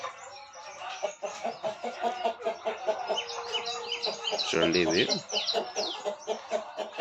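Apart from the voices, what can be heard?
rooster and chickens clucking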